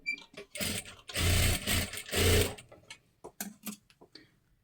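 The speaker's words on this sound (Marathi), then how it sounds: "डबल शिलाई मारून घ्यायची आहे" A sewing machine runs in two bursts of double stitching on fabric for a matka neck design, with ticking mechanical clicks and short pauses between runs and no talk.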